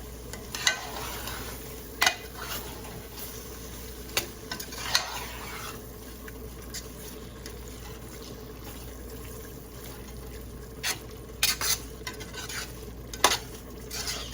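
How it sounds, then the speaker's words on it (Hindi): Beef tikka fries and sizzles in a karahi under a steady frying hiss, while a spoon scrapes and stirs the pan in scattered sharp knocks and clinks. "बस इसमें 2-3 मिनट पकेगा, टिक्के पकेंगे"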